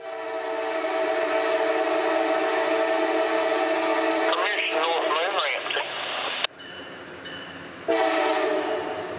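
CSX OCS business train arriving, with a loud sustained multi-tone horn blast up close, interrupted briefly, then the horn resumes near the end over the rolling rumble of the train.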